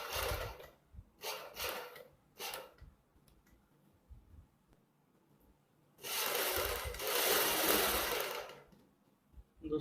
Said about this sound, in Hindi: यहाँ से सिलाई लगानी है